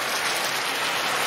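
Moisture from chicken pieces bubbling and sizzling in a hot oily pan while cooking a chicken madras, a steady close crackle like light rain with no pauses.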